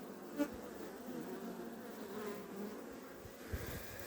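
Honey bees buzzing around a beehive as they bring in pollen in December, a steady soft drone of many insects with a few passing buzzes close by.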